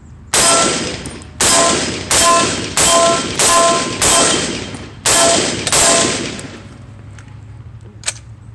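A Springfield M1A rifle fires seven sharp, loud shots at irregular intervals of roughly half a second to a second, each ringing out with a decaying echo outdoors, followed by a faint click.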